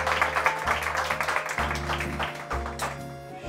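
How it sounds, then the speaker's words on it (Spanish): Audience applause for a two-Michelin-star chef at an Italian cooking masterclass, dense clapping sustained throughout over a low steady hum and tonal background. "Un aplauso para Domenico."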